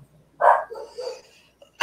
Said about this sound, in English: My dogs are making your dogs bark.